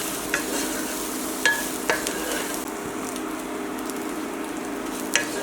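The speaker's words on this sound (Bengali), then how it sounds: "এবার ধুয়ে রাখা সয়া প্রোটিনগুলো মিডিয়াম আঁচে ভেজে নেব।" Washed soy protein chunks fry lightly over medium heat with a steady sizzle, broken by several sharp spatula taps and scrapes against the pan as they are stirred, close up with no speech.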